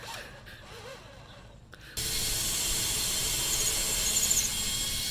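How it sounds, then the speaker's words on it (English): After a quiet couple of seconds, a power drill kicks in and runs steadily with a loud, sustained whir until the end. "he's drilling the last 4 holes right now"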